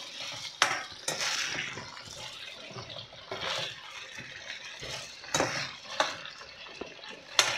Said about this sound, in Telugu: వంకాయలు బాగా ఆయిల్లో ఫ్రై అయిపోయినాయి